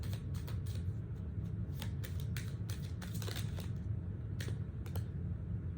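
Tarot cards being shuffled close by: a steady run of crisp riffling clicks and soft slaps over a low, constant rumble.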